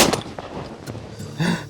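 A single sharp rifle shot fired while hunting on a game ranch, loud and close at the start with a brief outdoor echo trailing off.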